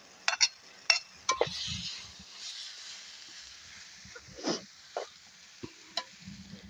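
A spoon stirs fried prawns into a spicy devilled curry in a pan, giving a soft steady sizzle with scattered scraping and clinking taps against the metal, close and fairly quiet with no talking.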